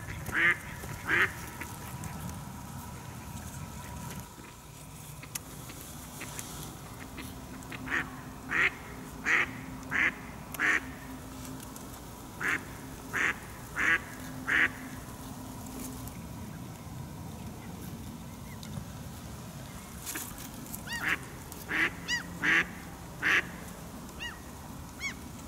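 A flock of about ten ducks quacks on ice in early spring, bursts of loud nearby calls arriving in uneven clusters with quiet gaps between them over a faint steady background.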